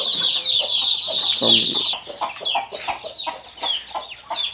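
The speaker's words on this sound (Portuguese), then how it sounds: "Vamos soltar os pintinhos." Hens and chicks clucking and peeping at close range as chicks are let loose in a farmyard, busy overlapping high chirps and clucks, with a brief spoken word over them.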